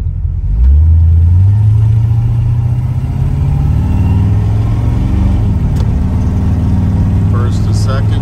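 A 1953 Chevrolet 3100 pickup pulls away and accelerates through its gears, its engine note climbing then holding at a loud, close rumble for several seconds.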